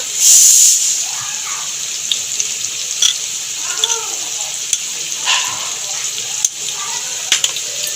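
Ground cumin-coriander paste fries with pointed gourd and tomato in a pan, a steady moderate sizzle with occasional clicks and a brief louder burst of spitting at the start, no talk.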